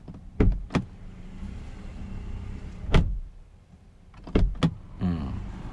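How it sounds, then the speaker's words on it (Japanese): A 2019 Mercedes-Benz A-Class A180 Style's door is shut several times, giving sharp, solid thuds in close pairs and singles over a quiet cabin hum. "ドアを閉めた音聞いてみましょうか。"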